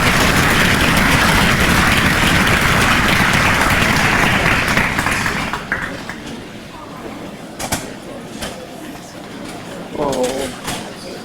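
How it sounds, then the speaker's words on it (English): Applause from a dinner crowd for the food service staff at a retirement dinner, a dense sustained clatter for about five seconds that then fades into a quieter room with scattered noises. "Would you give them a round of applause?"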